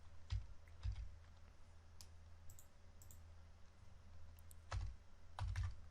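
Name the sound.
typing code on a computer keyboard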